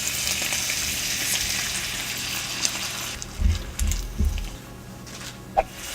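Water hits a hot pan of Filipino beef steak (bistek), setting off a loud, steady frying sizzle that later settles, with a few soft bumps and clinks of the pan near the end.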